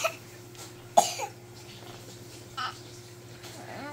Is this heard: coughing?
yes